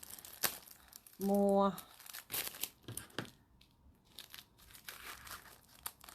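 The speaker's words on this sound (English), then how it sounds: "I am opening up a kit." Plastic packaging of a Quick Mini Bag sewing kit crinkles and crumples in irregular bursts close by, with soft rustling around a short tonal beep, and a person speaks briefly.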